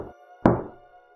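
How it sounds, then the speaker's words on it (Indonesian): A single solid knock on an old wooden door, close and fairly loud, with a short resonant decay into quiet. "Dari pintu kayu tua di pojok ruangan."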